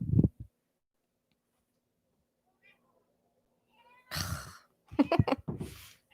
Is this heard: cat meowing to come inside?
yes